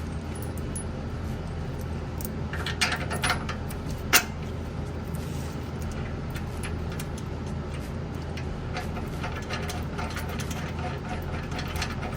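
Hand ratchet clicking as it tightens a suspension bolt on an SN95 Mustang with the rear end jacked up, rapid faint pawl clicks over a steady background hum in a garage.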